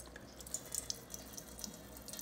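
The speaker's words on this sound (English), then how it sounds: "So let's just give Luna some water from the fridge." Water runs from a filtered refrigerator dispenser in a quiet, faint, steady trickle with a few light drip-like splashes.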